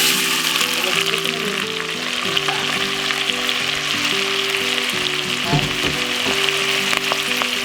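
Chopped medium onion frying in a pan, a loud, dense, unbroken sizzle close up, with a brief stir or scrape partway through.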